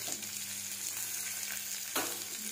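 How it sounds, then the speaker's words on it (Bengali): Chopped onion, ginger, green chilli and garlic frying in hot oil with cumin, a steady soft sizzle with a stirring scrape near the end, close and fairly quiet. "সব কিছু ভালোভাবে ভেজে নেব।"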